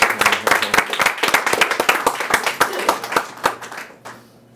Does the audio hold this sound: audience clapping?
yes